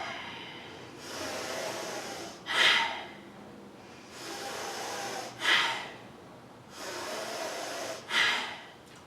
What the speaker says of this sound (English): Powerful chest breathing.